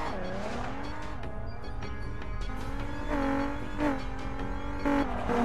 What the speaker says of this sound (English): Now let's focus on drifting. This useful move can help you gain energy and take corners without losing speed.